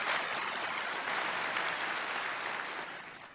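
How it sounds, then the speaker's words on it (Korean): An audience at a Korean speech about Reverend Moon applauds. The clapping is dense and steady and fills the room at a constant level, fading slightly at the end. "박수 한번 부탁합니다."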